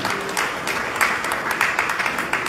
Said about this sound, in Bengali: আমরা জোর করতালি দিয়ে অভিনন্দন জানাই